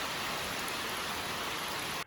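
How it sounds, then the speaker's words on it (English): Rain drums on a cabin's tin roof in a dense, even hiss of countless drops, loud and steady with no talk, then cuts off abruptly at the end. "Nothing beats the sound of rain on a tin roof."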